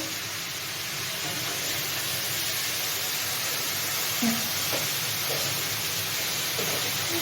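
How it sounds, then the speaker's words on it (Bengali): Food frying in a pan gives a steady, even sizzle throughout, close and fairly loud, with a few faint clinks and pops over the continuous hiss. "এটা তো ভাজছি এটা ভাজা হচ্ছে"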